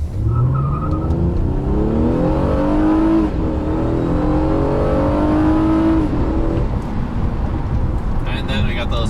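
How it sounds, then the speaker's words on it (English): A 2014 Honda Accord V6, in sport mode, pulls at full throttle from a standstill, its engine note climbing steadily through the gears, loud and close from inside the cabin. "let's just do one full acceleration from the stop"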